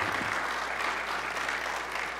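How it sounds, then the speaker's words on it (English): A crowd gives Brandon a round of applause as he is welcomed up to the front. The clapping is continuous and fairly soft, sounding somewhat distant, and lasts a couple of seconds. "Give him a round of applause"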